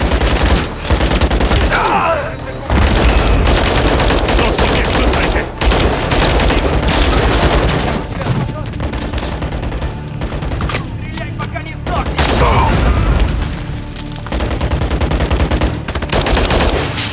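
Intense gunfire in Call of Duty Modern Warfare 3 during a fight against turrets, dense automatic bursts and explosions nearly continuous and loud, with brief pauses and some voices under the shooting.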